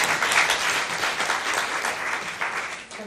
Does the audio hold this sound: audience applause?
yes